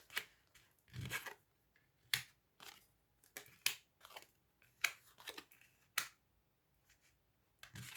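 Cards are shuffled and drawn for a reading, heard as a series of quiet, crisp flicks and slaps coming in irregular bursts with short pauses between, close by and with no talking.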